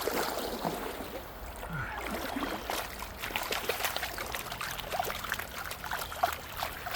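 Water sloshing and swirling in a gold prospecting pan, with continuous splashy washes and trickles rising and falling through the clip, close by, with no voices.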